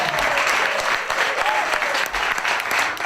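A concert crowd at the Clare Rose Playhouse gives a singer a round of applause, dense and continuous clapping sustained throughout, with a faint voice briefly audible beneath the noise.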